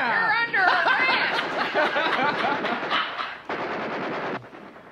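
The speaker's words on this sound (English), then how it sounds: "Hold on, that sounds like they got a lot more guns than we do." Dense gunfire from many guns in a chaotic shootout, rapid bursts and cracks piling over each other, with voices shouting and chattering underneath.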